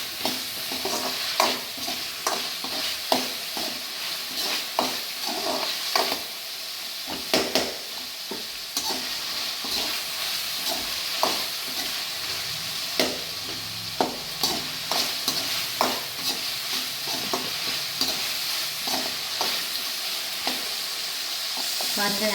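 Onions fry in a pan for an egg pasta dish, a constant bright sizzle broken by repeated sharp scrapes and clacks of stirring at an irregular rhythm.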